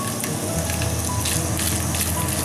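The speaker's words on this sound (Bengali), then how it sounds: "নারকেল কুচিগুলো একটু গোল্ডেন ব্রাউন করে ভেজে নিতে হবে" Chopped coconut pieces sizzle and crackle in hot oil in a home kitchen pan, a steady close frying hiss with small bursts as they brown, with no talking.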